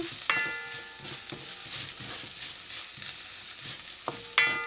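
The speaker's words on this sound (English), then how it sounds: "Now add in your curry and let that toast with the seasonings." Curry powder and seasonings toast in a hot pan with a steady soft sizzle, a spoon scraping and stirring now and then, and a couple of bright metallic clinks against the pan.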